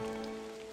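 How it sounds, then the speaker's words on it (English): Steady rain falls in the video game Don't Starve Together, a soft, even hiss of rain on the ground with faint steady tones beneath it. "The rain is gonna put a little bit of a damper on my fire."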